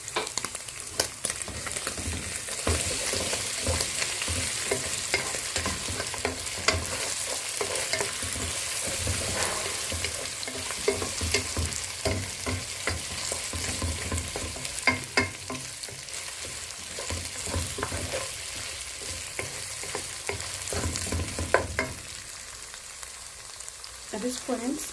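Ginger garlic paste sizzles and fries in a hot pan while being stirred, a steady close crackle with frequent scraping stir strokes, no talking, for a spiced pilau.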